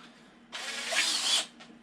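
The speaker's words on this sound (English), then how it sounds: "swap out for the drill bit, and screw it down" A power drill runs for about a second as it drives a screw into a wooden bonsai backdrop panel, a close whirring buzz that rises and cuts off, followed by a faint brief tick.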